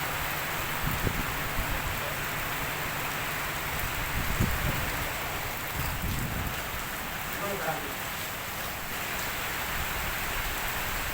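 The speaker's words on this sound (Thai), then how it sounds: "ฝนตก ฝนตก" Heavy rain pours down steadily outdoors, a dense, even hiss of drops hitting surfaces that continues throughout, with faint voices now and then underneath.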